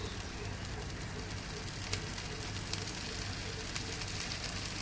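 A little oil poured around the edge of a rajgira dosa on a pan over lowered heat gives a steady, soft, close sizzle with fine crackling throughout.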